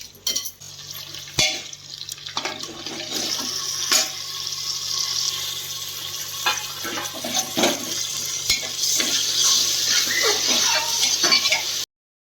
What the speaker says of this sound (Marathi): आता याला दोन ते तीन वेळेस पाण्याने स्वच्छ असं धुवून घ्यायचं आहे